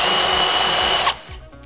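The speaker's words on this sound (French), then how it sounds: "nous allons pré-percer avec une forêt à bois plus petit pour guider notre" A small wood drill bit pre-drilling a hole in wood for a bottle holder: a loud, close, steady whine of the drill that stops abruptly after about a second.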